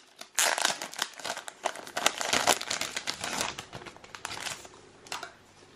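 A new leather planner is unwrapped up close, with dense crinkling and rustling of packaging that continues for several seconds and fades toward the end. No one speaks.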